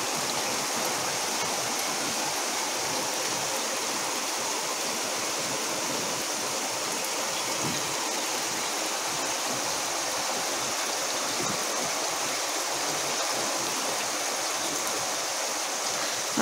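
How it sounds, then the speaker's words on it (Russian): Steady warm rain hisses evenly throughout, a dense broadband wash with no breaks, close by and fairly loud, with no voices. "Дождик теплый."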